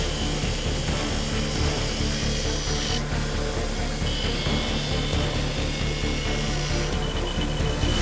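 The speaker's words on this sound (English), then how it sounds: "Time to grind." Steady, continuous power-tool grinding on metal katana fittings, a lightsaber-style tsuba and end piece, running close and loud for the whole stretch with no talking.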